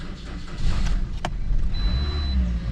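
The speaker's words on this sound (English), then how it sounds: "Normally my car will start up." A car engine cranks and starts with help from a portable battery booster, rising into a loud steady idle rumble with a brief click partway through.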